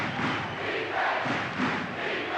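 Crowd roaring steadily inside Cameron Indoor Stadium at a 1979 North Carolina vs Duke college basketball game, a dense, continuous wash of cheering with slight swells, loud and close throughout.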